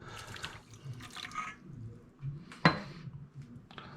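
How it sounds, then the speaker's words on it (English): A quarter cup of water poured into a soy sauce, sugar and salt marinade for Thai fried chicken, with kitchen clatter and a sharp clink of a cup against the bowl midway. "I've got just a 1/4 cup of water to help us mix that up and dissolve that sugar"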